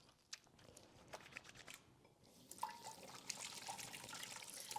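Water trickles and splashes faintly as hands are rinsed with soap, a soft running patter with small clicks and rubbing, close by and quiet throughout.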